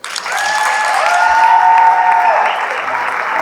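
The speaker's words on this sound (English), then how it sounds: "let's get a round of applause" Audience applause at a student fundraising gathering for earthquake relief in Albania, a sustained burst of clapping that swells quickly and holds steady for several seconds, with a brief tonal ringing running underneath.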